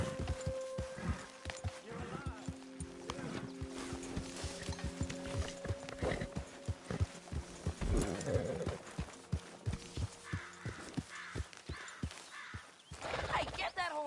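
A horse in a PS4 video game clops along with hoof beats and snorts, set against game music tones and ambient birds, while a character's voice speaks over it.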